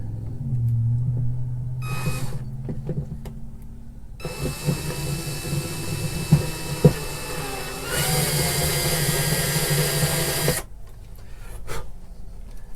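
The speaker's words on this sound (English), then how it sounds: "So drill this one out a little bit." A power drill whirring in short and longer bursts into an Ovation CE44P spalted maple guitar, close and loud, with a few clacks and knocks between runs.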